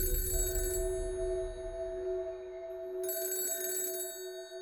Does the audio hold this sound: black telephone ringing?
yes